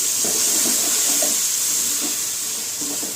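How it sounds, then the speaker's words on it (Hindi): Tomatoes frying in a pan with garlic, ginger, green chilli and onion for dal tadka, a constant close hissing sizzle with faint stirring bumps underneath. "अब इसको डाल के अच्छी तरह से भून लीजिए।"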